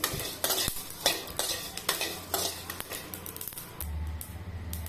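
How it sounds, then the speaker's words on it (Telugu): Shahjeera, cardamom, cloves and cinnamon frying in a pan, with close, loud, repeated stirring scrapes and rattles over a steady sizzle. "తర్వాత సాజీరా, యాలకలు, లవంగాలు, చెక్క అన్నింటిని బాగా వేయించుకోవాలి"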